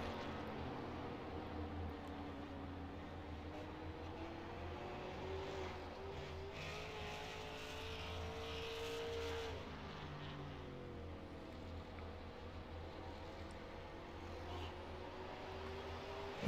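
At the USA Super 50 event, a race car runs a timed lap, its engine a faint, distant drone whose pitch climbs and falls through gear changes and corners for the whole stretch.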